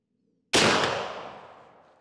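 A single loud shot from a Hawken muzzleloader firing a Lee REAL 250 grain conical bullet, a sharp close blast after a quiet start that rings out and fades over about a second and a half.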